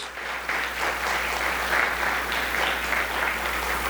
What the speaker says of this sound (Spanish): Denle un aplauso al Espíritu Santo de Dios